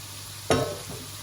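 Onions and shallots fry in a pan, a single brief scraping, sizzling burst from stirring that rises out of a low background hiss and quickly fades.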